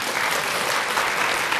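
A church congregation claps together during a Sunday worship service, a short, dense burst of applause filling the room.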